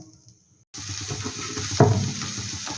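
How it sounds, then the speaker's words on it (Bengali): Water poured from a spice bowl into a pan of cooking masala for koi fish curry: a sudden, steady splashing hiss that keeps on to the end, after a near-silent start. "এবার মশলা দেওয়া বাটিটা দিয়ে একটু জল দিয়ে দিচ্ছি"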